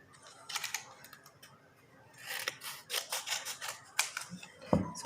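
Scissors cut through a folded paper square to make triangles, with several close, crisp snipping bursts and rustling paper, fairly quiet and without talk.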